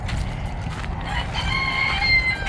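Chickens and a rooster in a backyard coop at morning call out, with clucking at first and then a rooster crow rising near the end over low background rumble.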